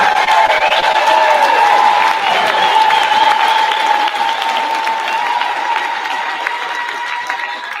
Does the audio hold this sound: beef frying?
no